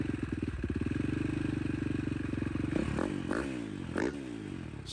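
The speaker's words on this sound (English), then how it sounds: "engine sounds fine" Vehicle engine in the zombie game Dead Island 2 sputtering with a steady low rhythmic idle that falters and chugs near the end, quiet and alone.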